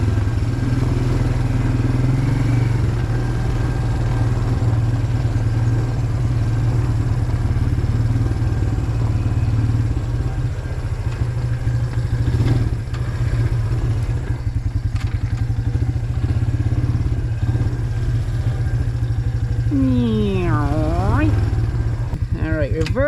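A Suzuki Ozark ATV that sat unused for years runs loudly and steadily while being ridden, a close, constant engine drone with a short rising and falling whine near the end.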